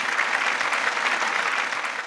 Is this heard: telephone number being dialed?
no